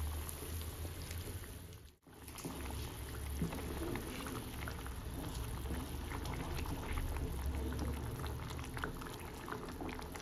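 Cornflour slurry poured into a simmering sauce of soy sauce and ketchup, with steady close bubbling and liquid sizzle running throughout, briefly dipping near the start.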